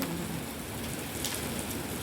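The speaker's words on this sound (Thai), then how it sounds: "บรรยากาศฝนตกค่ะ แต่ตกไม่แรงหรอก" Light rain falling outdoors, a soft steady hiss of drizzle spread evenly across the clip, fairly faint with no talking.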